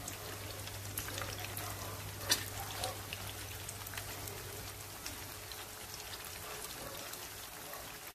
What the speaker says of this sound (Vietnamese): mình chiên lửa liu riu á cho nên là cái chả giò nó cũng không có nhanh vàng